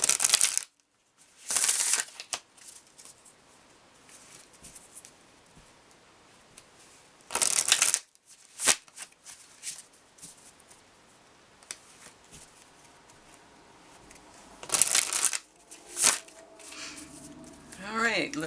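Green Witch Oracle cards being shuffled in bursts, with crisp riffling and slapping flurries separated by quiet gaps, close to the microphone, and some soft speech in between.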